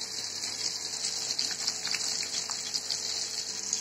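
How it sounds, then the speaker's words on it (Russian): Cherries dropped into a pot of boiling water, giving a steady close bubbling, hissing rush with faint splashy pops throughout. "Добавляем вишню."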